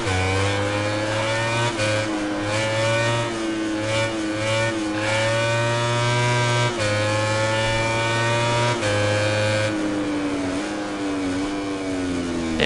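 A motorcycle engine in MotoGP 19 screams at high revs while the rider holds a wheelie, the tone sustained and loud with small pitch dips as the throttle shifts, no voices over it.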